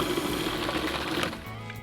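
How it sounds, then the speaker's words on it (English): A food processor purees cream cheese with sugar for a dessert recipe, its motor giving a steady, rattling buzz that eases and drops to a lower hum near the end. "I'll add first 1/2 cup of sugar and puree this until it's smooth"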